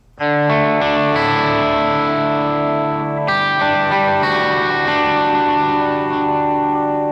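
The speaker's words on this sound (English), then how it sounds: "You can hear that the repeats and the reverb is just slightly saturating the amp." Sustained electric guitar chords through a Two Notes Genome and Neural Amp Modeler ring out with heavy reverb and echoing delay repeats slightly saturating the amp, a second strum landing midway and washing into a long tail.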